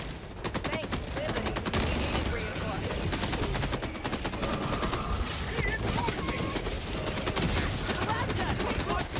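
Heavy machine gun in the Helldivers 2 video game fires in a dense, sustained stream of rapid rounds, loud and continuous with in-game battle noise, and a voice occasionally speaks over it.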